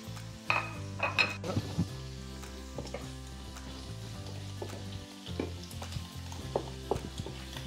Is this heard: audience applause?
no